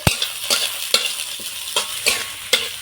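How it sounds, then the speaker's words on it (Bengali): Carrot pieces frying in a pan with green chilli, a loud close sizzle broken by rhythmic spatula scrapes and stirs about every half second, no voices. "গাজরটা একটু ভাজা ভাজা করে নেব এইভাবে।"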